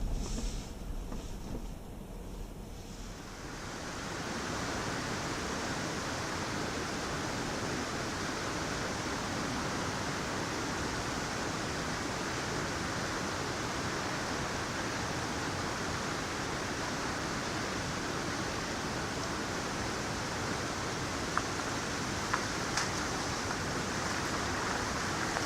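A creek running high with water, a steady broad rushing roar that fills the whole stretch, close and continuous after a brief quieter start, with no voices.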